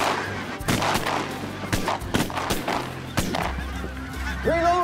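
Several loud shotgun blasts ring out in quick succession during a goose hunt, mixed with honking geese close by and a brief bit of talk.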